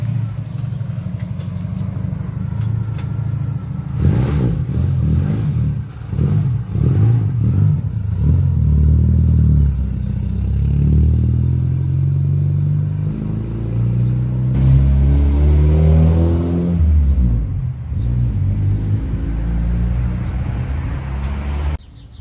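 A Chevrolet Caravan driving on newly changed wheels, a rumbling engine with clattering over the road and a rising rev as it pulls away, loud and near.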